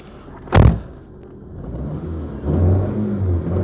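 Proton Satria LXI engine idling roughly with a slight misfire, a sharp broadband burst near the start followed by uneven low rumble that swells again toward the end, close by with no talking.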